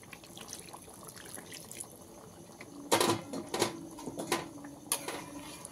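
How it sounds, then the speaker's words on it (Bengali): Hot water poured into a pot of chicken and potato curry, a soft background bubbling followed by a sudden splashing pour midway and a few more gushes, close and moderately loud. "এবারে এর মধ্যে আমি গরম জল করে রেখেছি, পরিমাণ মতন দিয়ে দিলাম।"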